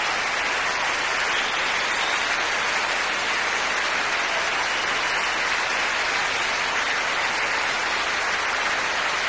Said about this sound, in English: Choirs now acknowledging the applause